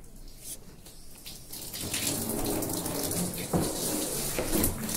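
Water runs steadily from a hose or tap while rinsing out the inside of a rainwater collection cistern, growing into a loud, continuous splashing rush with no talk.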